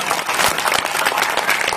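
An audience at a Hindi kavi sammelan poetry gathering breaks into brief, dense clapping, a loud close burst of applause lasting under two seconds.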